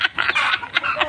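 Noisy chickens clucking in short repeated bursts, fairly close and loud, with no voices over them.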